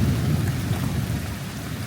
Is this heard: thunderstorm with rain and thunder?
yes